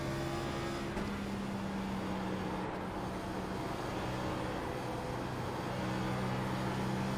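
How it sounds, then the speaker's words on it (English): Race car engine in the iRacing sim game holds a loud, continuous drone, with its pitch stepping and shifting as the driver downshifts, and no one talking over it. "Gonna try downshifting, see what that does for us."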